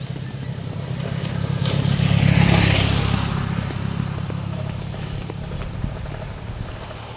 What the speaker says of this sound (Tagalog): Nagsakay ko og motor